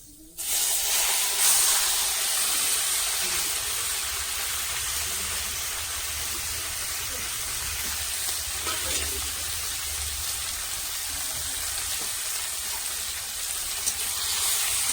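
Fish drops into a hot pan tempered with black cumin and erupts into a loud, steady frying hiss that holds evenly for a long stretch with faint crackles.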